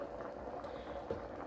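Rice and peas bubble gently in a pot on the stove, a faint, steady simmer with a single soft clink partway through.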